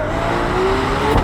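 A Ferrari 12 Cilindri Spider's engine roars loudly and close, a sustained high-revving note that climbs slightly in pitch across the brief burst.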